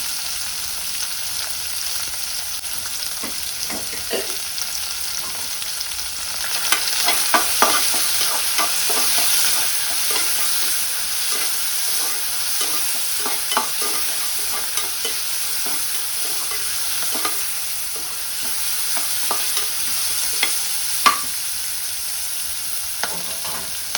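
Sliced onions sauté with a little salt in a pan for a biryani, giving a steady close sizzle broken by frequent scraping stirs of a spatula, with no voices.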